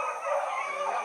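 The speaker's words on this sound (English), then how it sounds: "Me and Brad and our deer dogs pack style running" A pack of hunting deer dogs bays and yips together while running, a short burst of overlapping barking and howling at moderate distance.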